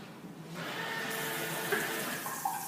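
An automatic sensor faucet runs steadily, water streaming into a sink at moderate volume with a faint hiss throughout, no voices.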